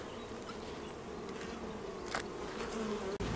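Spring hive inspection at an apiary near Lyon, with honeybees buzzing steadily and close throughout, a dense continuous drone without talk.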